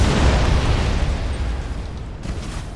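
Rapid-fire explosions boom in Battlefleet Gothic Armada 2, a Warhammer 40K space battle game, giving a loud, dense, rumbling barrage of blasts that rolls on continuously and slowly eases off near the end.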